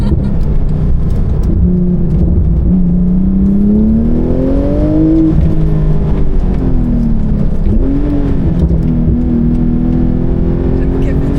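Loud race vehicle engine on the Vaison circuit track during Motorfest, heard close with a steady roar whose pitch rises and falls as it revs and shifts, with people talking faintly underneath.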